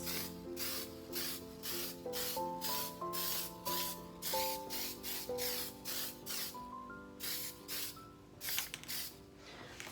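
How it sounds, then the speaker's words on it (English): Repeated short spritzes from a spray can of water-based clear sealer over white chalk paint, rhythmic hissing bursts close to the mic, with soft music playing underneath. "I'm just going to kind of take it and just spritz."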